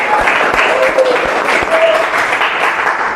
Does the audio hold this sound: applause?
yes